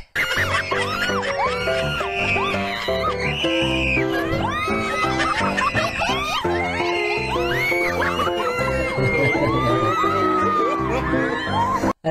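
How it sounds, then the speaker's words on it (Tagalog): Loud, sustained shrieking screams from a crowd, high-pitched and continuous, layered with whoops and raised voices in a noisy, packed setting. "Lakas ng tili."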